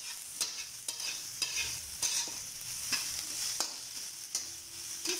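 Vegetables for lumpiang gulay sautéing in a pan, a bright constant sizzle broken by regular clicks and scrapes of a spatula every second or so, close and fairly quiet with no voices.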